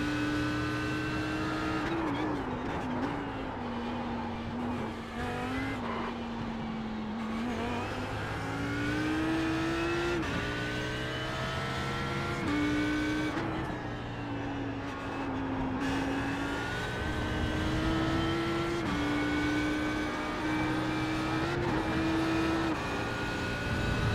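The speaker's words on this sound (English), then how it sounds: "the car sounds are really good on iRacing" A simulated race car engine in the iRacing game at Zandvoort drones steadily for the whole stretch, its pitch rising and falling with gear shifts and throttle, loud and continuous.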